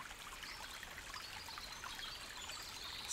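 Gentle continuous trickle and babble of river water, soft and steady throughout.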